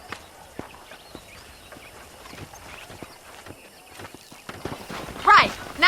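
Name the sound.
horse hooves clip-clop in video game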